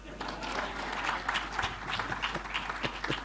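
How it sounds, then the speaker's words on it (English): An audience at a Nyerere and Makerere centenary celebration claps for an 84-year-old speaker, a soft, scattered patter of hands in a large room, with some faint speech underneath. "Why don't you clap for me?"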